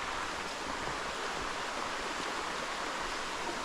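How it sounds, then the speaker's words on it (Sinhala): Continuous rushing of flowing water, a steady broadband wash at moderate level with no voices or breaks. "මේ හැම තැනකින්ම වතුර ගලාගෙන යනවා."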